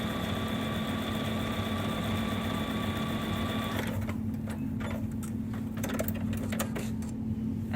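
A sewing machine quilts a quilt-as-you-go block and attaches the back seam, a steady close mechanical hum with stitching rhythm that changes character partway through, with no talk.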